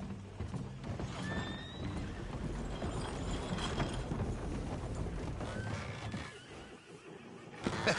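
A horse whinnies while its hooves clop steadily and continuously throughout, close and clear, with no voices over it.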